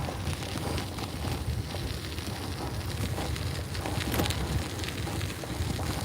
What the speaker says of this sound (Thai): ฝนก็ตกดีจัง